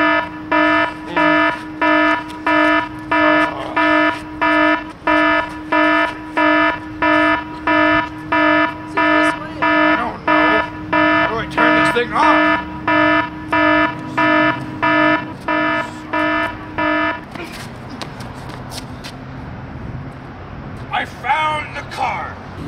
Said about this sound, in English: I'll press the panic button, and the alarm will go off,